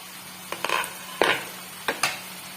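Tomatoes cooking in a kadai after the lid comes off, a soft sizzle under a few sharp clinks and stirring scrapes of a utensil against the pan, close up.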